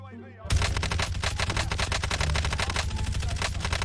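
Rapid automatic fire from the Bullfrog submachine gun in Warzone, loud and close, with sustained bursts of tightly spaced shots running for several seconds after a quiet start.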